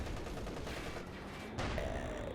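A StuG assault gun fires in a large 4v4 Company of Heroes 2 battle on Hill 400, a brief burst of battle noise with overlapping gunfire and a sharp shift near the end.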